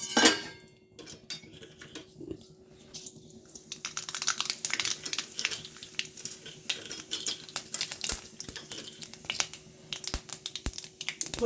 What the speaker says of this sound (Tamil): நாம் கடுகு உளுத்தம்பருப்பு போட்டுடலாம்